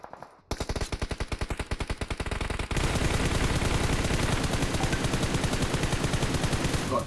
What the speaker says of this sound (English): Shots already going now.